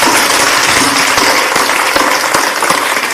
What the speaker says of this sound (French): applaudissez-vous vous-même.